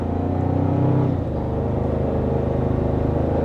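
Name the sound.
2024 Toyota Tacoma accelerating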